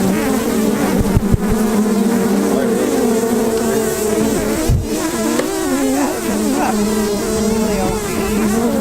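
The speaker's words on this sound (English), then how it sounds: "Really old bees." Honey bees swarm loudly around an opened beehive during a spring checkup, a dense, continuous close buzz with individual bees whining past the microphone.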